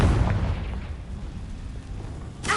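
A Confringo spell explosion in Hogwarts Legacy booms loudly with a deep rumbling blast that fades over a couple of seconds, and a fresh burst arrives at the end.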